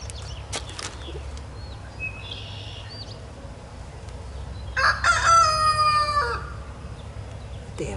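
A rooster crows outdoors near a fishing pond, one loud drawn-out cock-a-doodle-doo in the middle of the clip, with fainter clucking and bird calls earlier against low background hum.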